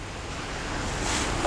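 Steady rain falls on a flooded road in a waterlogged area of Navsari, a continuous dense hiss and splash with a dull low rumble, loud and close throughout, no voices.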